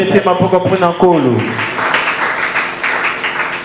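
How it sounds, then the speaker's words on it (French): A church congregation breaks into sustained applause right after a brief spoken phrase, the dense clapping continuing loud and steady to the end. "Acclamons pour le Seigneur."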